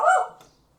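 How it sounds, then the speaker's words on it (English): A single short, loud dog bark close by, quickly fading to silence. "he literally barks at absolutely anything"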